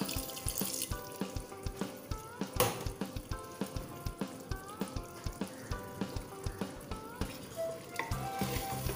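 A spoon stirs chicken curry masala in a pot after water and green chillies go in, producing a quick run of regular scraping clinks over soft bubbling and sizzling, no talking.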